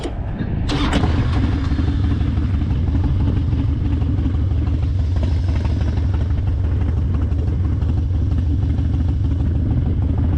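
Bagger motorcycle engine running close by, a loud continuous low rumble with a sharp clattering burst near the start, steady throughout with no voices.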